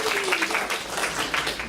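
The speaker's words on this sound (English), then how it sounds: "Let's give them a round of applause." An audience at a home warranty panel discussion breaks into applause, a dense wash of many hands clapping together at a steady level, with a brief voice at the start.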